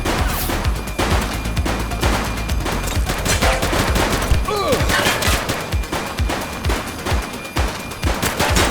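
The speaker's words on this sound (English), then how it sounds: "Shots fired!" Rapid gunfire in The Precinct police video game: continuous volleys of sharp automatic shots crackle without pause, loud and close, with a brief whistling whine partway through.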